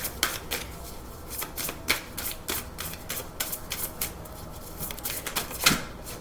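Tarot cards shuffled by hand in rapid, uneven riffles and slaps, close and fairly quiet, with crisp papery flutters continuing throughout and no talking.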